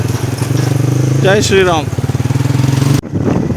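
A motorcycle engine throbs in a steady, rapid pulse on a rough, bumpy rural road, loud and close, while a rider briefly speaks over it before a sharp jolt.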